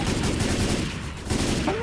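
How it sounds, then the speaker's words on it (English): Left 4 Dead 2 gunfire comes in dense rapid bursts, loud and close. Faint voice chatter sits underneath. "Can you stop shooting?"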